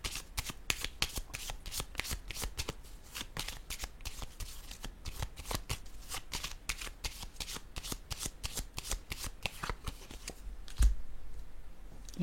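Playing cards are shuffled for a tarot card reading, with a rapid, steady run of close riffling flutters lasting several seconds and one heavier knock near the end.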